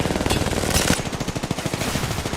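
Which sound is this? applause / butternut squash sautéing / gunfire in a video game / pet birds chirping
gunfire in a video game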